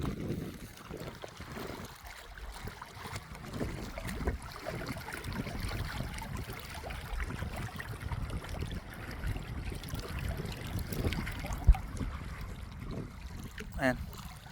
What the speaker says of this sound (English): you can hear when the waves crash into the rocks here, it creates a sweet music sort of thing